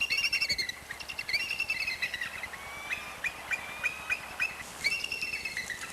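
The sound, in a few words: eagle calling in Alaska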